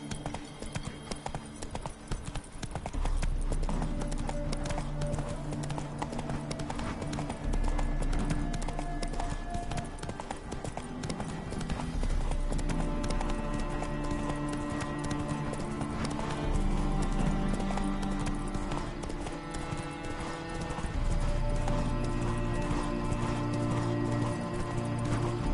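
Hooves of the horse Roach galloping in a PS4 video game, a continuous rhythmic clip-clop over game music and ambience, steady from start to finish.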